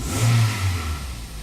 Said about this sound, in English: It idles a little high.